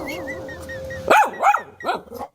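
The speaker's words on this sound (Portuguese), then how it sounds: "O cachorro começou de novo." Dog barks three times close by in quick succession, loud sharp yelps over a steady background hum with a faint whining tone just before.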